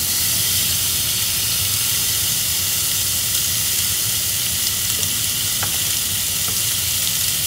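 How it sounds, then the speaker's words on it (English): Bacon sizzles and spits in a hot frying pan, a loud, steady crackling hiss running throughout with occasional sharper pops, close up and with no talking. "Sizzling ASMR."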